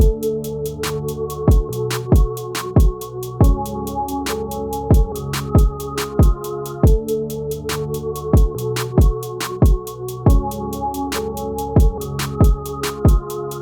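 Full type beat: a sustained melodic bed of layered tones under a steady drum groove with punchy kicks and crisp snare hits, loud and continuous, with no voices.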